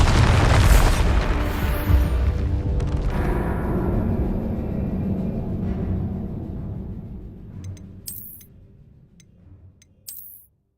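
Bombarda explosion spell cast in Hogwarts Legacy on PS5: a loud, deep booming blast that rumbles and slowly decays over several seconds, followed by a few faint ticks and small pops near the end.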